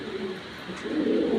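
A male Afsan grizzle racing pigeon coos up close, a low steady rolling call that swells louder toward the end.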